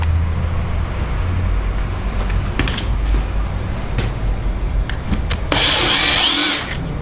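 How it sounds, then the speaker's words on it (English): A power drill fitted with new drill bits bores into the chrome bolt of an ICL lock, a steady motor hum broken by short grinding bursts and a louder, harsh cutting stretch near the end, close and alone. "we'll drill it and find out if it does."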